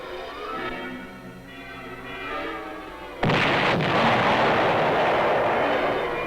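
Bombs dropped by an A-36 fighter-bomber detonate in a sudden heavy blast that gives way to a loud, sustained rumbling roar, following a few seconds of lower, droning engine-like noise, with no voices.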